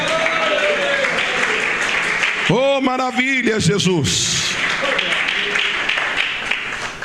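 Applause from a church congregation during a Pentecostal sermon, a steady wash of clapping running throughout, with a voice calling out briefly over it in the middle.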